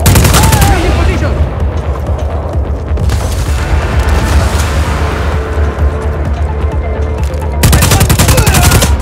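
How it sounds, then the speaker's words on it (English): Heavy gunfire and explosions from the Just Cause 4 video game, with loud bursts at the start and end framing sustained rattling fire and booming in between. "We have to keep moving. Opening fire."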